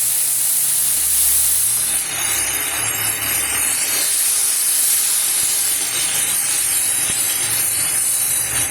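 Fish sizzles in a hot pan with spices such as panch phoron, green chili and ginger, giving a loud, steady frying hiss that runs unbroken throughout with no voices.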